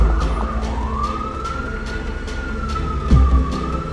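A cartoon ambulance siren wails, rising and falling steadily over traffic rumble at a car fire, fairly loud and sustained, with a low thud near the end.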